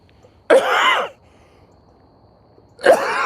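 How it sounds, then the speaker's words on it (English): Two harsh coughing bursts from a man outdoors at night on a hilltop, the first lasting about half a second, the second arriving after a quiet gap, both loud and close with no talk between. "the cough kicked in hard right there"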